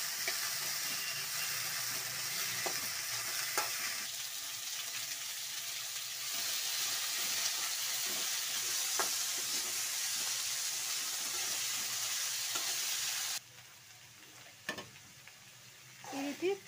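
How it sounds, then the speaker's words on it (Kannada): Chopped green capsicum fries in a hot pan with a constant close sizzle and occasional clinks of stirring. The sizzle cuts back sharply near the end, leaving a few scattered scrapes. "ಈ ರೀತಿ ಚೆನ್ನಾಗಿ ಫ್ರೈ ಮಾಡ್ಕೊಳ್ಳಿ ಕ್ಯಾಪ್ಸಿಕಮ್ನೆಲ್ಲ."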